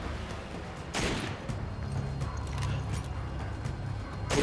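Gunfire in Resident Evil 5 during co-op play on Veteran difficulty, with a sharp shot near one second and another at the end over a steady, noisy game background.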